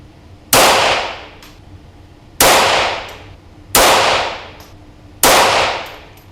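A .22LR rifle fires CCI Top Shot ammunition, four sharp, loud reports spaced at roughly one-and-a-half-second intervals. Each crack is followed by a short decaying ring, and no one speaks.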